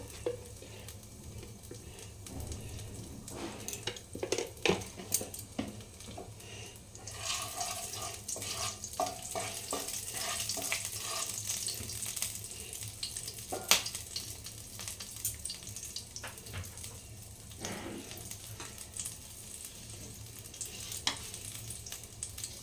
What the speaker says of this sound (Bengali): এই যখন আমি সরষের তেল দিচ্ছি মশলাটা কষার জন্যে